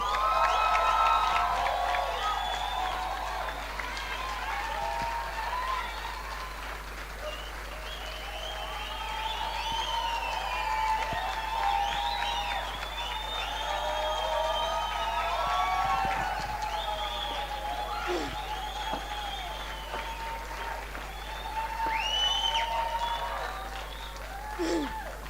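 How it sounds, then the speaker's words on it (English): Crowd at a youth conference in a Johannesburg hotel applauding and cheering, with whoops and shouts rising and falling over sustained clapping, and voices calling out throughout. "Please give her a round of applause."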